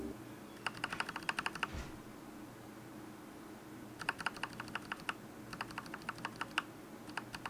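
A keyboard fitted with Glorious Lynx linear switches is typed on in quick bursts of crisp, close clicks, separated by short pauses, over a quiet background.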